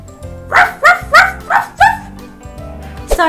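A small dog barks in a rapid run of five loud, high-pitched yips close up, then pauses briefly before one more short yelp at the end.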